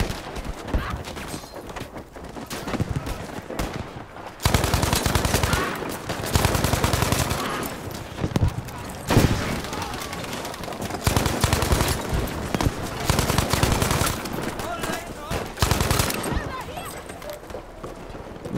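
Support-class weapon fire from Battlefield 5 rattles in loud automatic bursts, several long strings of shots separated by brief gaps, with game sounds and a voice speaking over parts of it.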